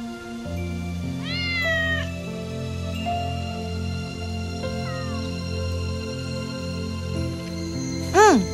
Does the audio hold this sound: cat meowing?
yes